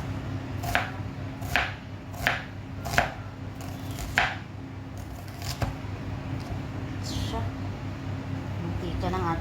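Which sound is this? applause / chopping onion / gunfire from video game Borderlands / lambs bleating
chopping onion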